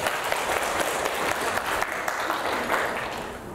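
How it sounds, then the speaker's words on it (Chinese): An audience at a lecture claps together, a dense, steady burst of applause that fills the whole stretch and fades slightly at the end. "来帮自己拍拍手"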